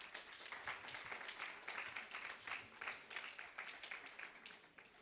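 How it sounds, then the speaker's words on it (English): Applause from a youth democracy forum audience, steady and dense throughout, a moderately distant crowd clapping continuously without a break. "A big round of applause for all of them"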